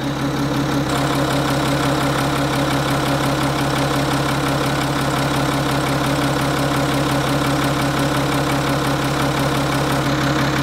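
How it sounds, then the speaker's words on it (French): A Citroën C6 car engine idles steadily and loudly, a constant low rumble with no change in pitch throughout. "Et avec le moteur qui tourne, maintenant je vais reboucher."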